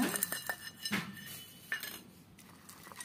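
A spoon clinks against a steel bowl while Ugadi pachadi is stirred together with small banana pieces, light scattered metallic taps close up and fairly quiet.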